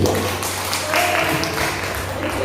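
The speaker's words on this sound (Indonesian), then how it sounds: "tepuk tangan dulu untuk Bu Astuti" A school audience applauds a teacher, Bu Astuti, during a positive school culture session; a brief wash of clapping sounds steadily through the room, mixed with background murmur.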